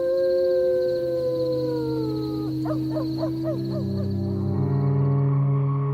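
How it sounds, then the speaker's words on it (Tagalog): A dog howls in long, drawn-out wavering tones that rise and fall, with a few shorter yelping howls in the middle, loud and fairly close, with no talking. "Normal lang naman na tumatahol o umaalulong ang isang aso."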